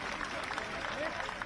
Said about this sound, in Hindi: एक बार ताली बजा के अपने प्रधानमंत्री जी का भी स्वागत करें